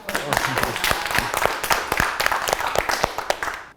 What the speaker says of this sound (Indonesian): Boleh tepuk tangan gak buat gue?